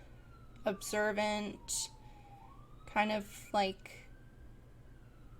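An emergency siren passes outside, a faint gliding wail running underneath someone talking nearby.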